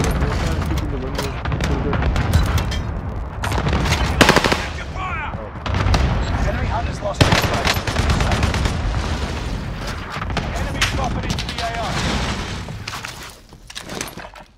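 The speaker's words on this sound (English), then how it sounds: "Cluster strike is active." Dense video-game gunfire, rapid machine-gun bursts and scattered explosions from a cluster strike, continuous and loud throughout, with sharp booms around four and seven seconds and a voice heard faintly under the battle.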